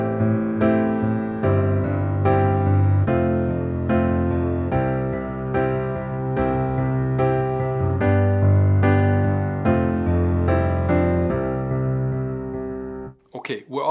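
Solo piano plays the chorus of a song, with steady sustained chords and melody for about thirteen seconds before a brief noise at the end.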